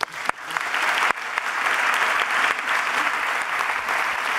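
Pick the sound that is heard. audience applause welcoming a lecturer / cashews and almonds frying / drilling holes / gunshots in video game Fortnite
audience applause welcoming a lecturer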